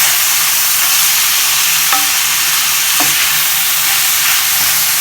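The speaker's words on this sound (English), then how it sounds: "Next we're going to add in our garlic" Garlic sizzles in a hot pan with vegetables for Tuscan chicken, a steady, loud frying hiss with a couple of brief clinks from stirring and no talking.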